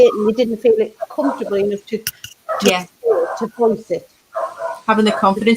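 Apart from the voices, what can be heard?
dog barking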